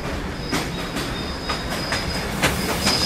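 A Pan Am Railway freight train rolls past at steady volume, with a repeating clickety-clack of wheels over rail joints and a thin, high wheel squeal running through most of it.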